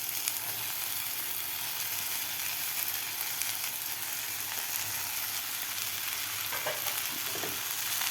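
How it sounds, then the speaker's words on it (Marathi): Soaked sago frying with tomatoes and vegetables in a pan for upma gives a steady close hissing sizzle throughout, with faint stirring clinks near the end. "आता यामध्ये घालायचं आपल्याला भिजवून घेतलेला साबुदाणा।"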